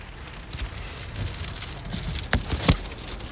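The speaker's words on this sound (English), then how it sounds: "now it's hammered with rain here" Heavy rain pours during a storm near Stoneham, Colorado, producing a steady close hiss of drops hitting a surface, with a couple of sharper louder impacts near the end and no voices.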